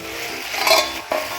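A lid for a new nonstick wok is handled in a kitchen, with a soft clatter around the middle and a sharper knock near the end, both brief and close against a low background.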